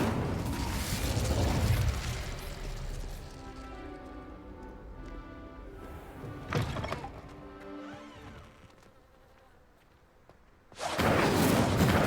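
Incendio fire spell cast in Hogwarts Legacy: a loud whooshing burst opens, decays into a ringing tonal tail, then a softer hit midway and another sharp loud burst near the end.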